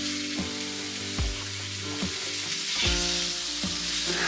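Ground beef browning in a cast iron skillet on a cooktop, a steady close sizzle and crackle of frying meat with several soft scraping stirs spaced through it, no voices.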